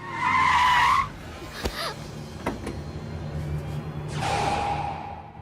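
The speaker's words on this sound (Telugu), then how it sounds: "అదిగో రాజుగారి కారు వస్తుంది" A car approaches with tires skidding and squealing, a sharp screech at the start and another near the end, with engine noise between.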